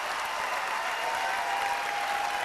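Town hall audience on its feet giving a standing ovation, a steady wash of applause heard from a distance, even and unbroken throughout.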